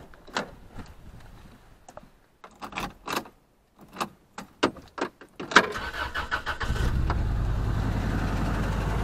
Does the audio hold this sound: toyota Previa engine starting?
yes